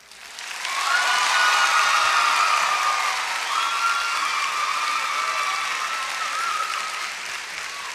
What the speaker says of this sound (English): You knew they were going to clap when you said that